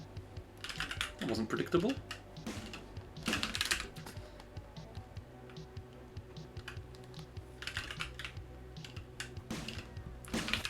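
Rapid clattering keystrokes on a computer keyboard come in bursts throughout, close and fairly loud, with a voice speaking briefly during the typing.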